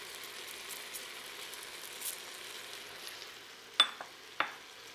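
Spices and a bay leaf sizzle faintly in a pot for split pea soup, a quiet steady frying hiss followed by a few sharp clinks of a utensil near the end.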